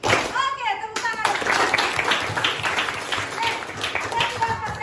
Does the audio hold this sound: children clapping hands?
yes